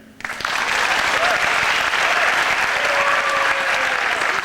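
An audience at a vocal group's debut stage show bursts into loud, sustained applause for a singer, dense clapping that swells within half a second and continues strongly, with faint voices underneath.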